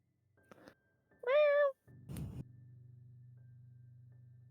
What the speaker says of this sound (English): inside of it you can see an orange tabby cat